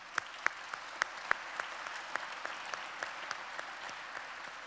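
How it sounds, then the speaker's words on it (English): A seated business-event audience gives steady applause, with a few sharper claps standing out near the start and the clapping thinning gradually toward the end; no one speaks over it. "If you'd please stand, we'll give you a round of applause."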